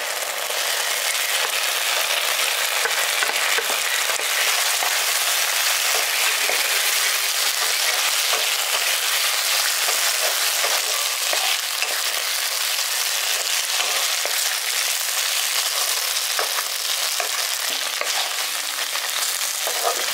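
Pre-fried chicken pieces drop into a pan of mixed sauces for a village-style chicken chatpata, setting off a steady, close, loud sizzle with scraping stirring that runs unbroken throughout.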